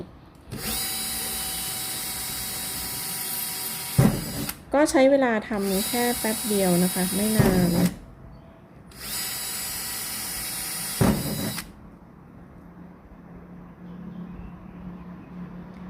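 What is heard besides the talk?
drill boring into wall board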